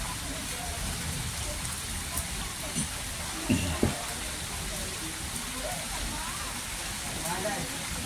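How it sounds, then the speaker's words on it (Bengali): Rain falls in a dense, steady hiss across the whole stretch, fairly close and even, with a few faint thumps and a voice murmuring softly underneath. "বৃষ্টির শব্দটা আমরা অনেক বছর থেকে শুনে নিই"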